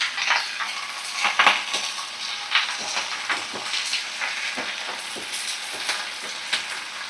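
Malabar spinach, eggplant, potato and chopped onion frying in a pan, a steady sizzle broken by repeated clinks and scrapes of a spoon stirring against the metal.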